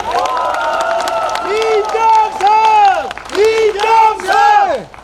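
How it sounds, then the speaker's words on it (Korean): Crowd at a Democratic Party campaign rally in Hamyang, South Korea, cheering and chanting in loud rhythmic bursts with applause beneath, swelling and falling several times while voices shout together close by. "임종석 우리 동지께 큰 박수 한번 부탁드리겠습니다"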